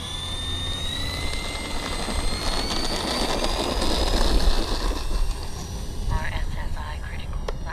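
An E-flite Twin Otter 1.4 RC airplane takes off, its steady whining motor tone rising in pitch as it passes left to right over outdoor wind noise.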